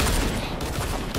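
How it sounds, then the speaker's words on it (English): Rapid gunfire from dual pistols in the Fortnite Chapter 2 video game, a dense, loud fusillade of overlapping shots that runs continuously through the short burst with no talking. "I miss using the dual pistols"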